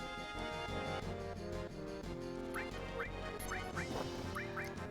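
Ducks quack repeatedly in Final Fantasy VII, a string of short nasal quacks in quick pairs and singles, set against busy looping game music with no voices.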